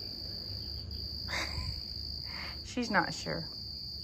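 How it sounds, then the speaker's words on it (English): A cricket chirps indoors in an air-conditioned room, a steady high-pitched trill running constantly in the background while someone speaks briefly. "I sure enough hear a cricket in here."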